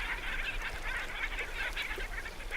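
Black skimmers calling over floodwaters rich with fish in Colombia, a dense, continuous chorus of nasal, honking barks that overlap steadily throughout, moderately loud and without pause.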